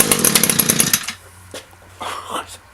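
An Echo string trimmer fitted with an aftermarket knock-off carburetor roars at full revs for about a second, then cuts to a low idle with brief sputters and a short rise near the end.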